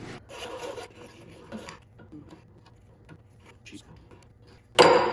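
A flat file rasps across Schedule 40 PVC pipe in a few short strokes, clear and close, with quieter handling noise and scraping between strokes and a sharp loud rasp at the very end.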